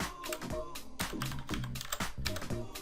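Typing on a computer keyboard to search for PuttyGen from the Windows start menu, a quick run of close, steady key clicks lasting a few seconds, with no talking.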